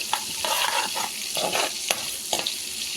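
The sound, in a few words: cumin seeds frying in oil and butter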